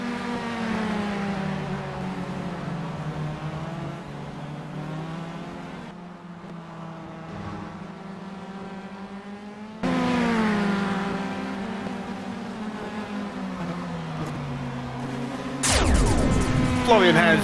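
Formula 3 race car circling Interlagos in a racing game, its engine a steady high whine with rising and falling harmonics under continuous commentary, then a sharp burst of revving and tire noise near the end.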